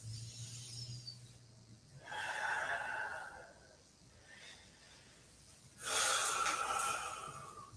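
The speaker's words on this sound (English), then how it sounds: "Take a couple breaths." During a yoga bridge pose, slow, deep breaths come up close in two long airy swells separated by quiet pauses, with a faint hum in the background.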